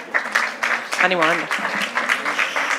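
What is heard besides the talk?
applause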